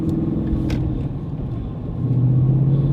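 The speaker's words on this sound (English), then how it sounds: "you do hear the engine noise a lot better" A stripped-out car with much of its sound deadening removed, heard from inside while driving through a neighborhood: a low engine drone and road rumble that swells slightly louder toward the end.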